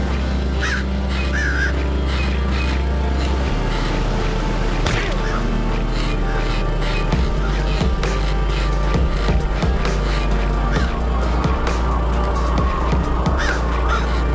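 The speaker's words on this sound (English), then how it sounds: "I have to collect feathers from live birds" Crows caw repeatedly in the Summer Catchers video game, several short harsh calls scattered over a steady musical background, fairly close and clear, with no talking over them.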